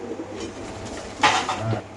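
Pigeons kept in cages at a pigeon farm give a short, soft coo, with faint bird sounds before it.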